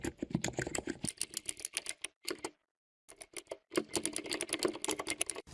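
Fast, crisp keystrokes on a laptop keyboard, close and loud, come in dense bursts with a short silent pause near the middle.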